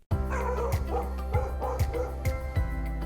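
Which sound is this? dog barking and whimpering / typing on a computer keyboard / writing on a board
dog barking and whimpering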